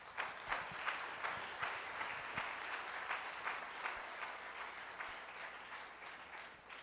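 At a formal book presentation of judicial guides published by Porrúa, the audience gives sustained, even applause. It is heard from a distance and fairly quietly, with a few sharper individual claps standing out.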